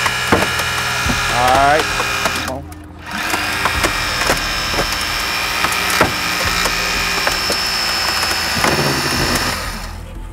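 An AMKUS hydraulic rescue tool driven by a four-stage pump works metal during extrication training, giving a steady mechanical drone with crunching, creaking and sharp cracks throughout, a brief dip in the middle, and a short spoken word near the start.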